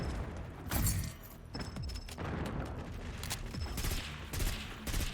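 Assault rifle fire in the multiplayer shooter Call of Duty: Black Ops 6 comes as rapid, punchy bursts over a dense, noisy battle backdrop, loud and close with repeated volleys.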